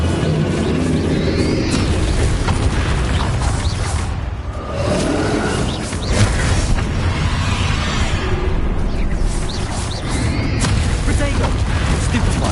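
Bombarda explosion spell blasts in the Hogwarts Legacy game, heavy booming impacts and whooshes over a dense loud battle bed, with voices shouting throughout.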